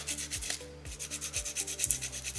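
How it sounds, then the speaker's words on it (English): Wet sandpaper scrubbing a small soapstone owl carving in steady back-and-forth strokes, a soft rhythmic rasping that repeats about every half second, close and fairly quiet with no talking. "as I am doing my shaping and my scrubbing, my sandpaper can be nice and effective"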